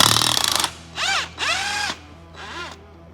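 Cordless power tool spinning off bolts on the rear end of an OBS Chevrolet Silverado pickup, a loud burst of rattling followed by three separate whirring runs with rising and falling pitch, close up with no talk.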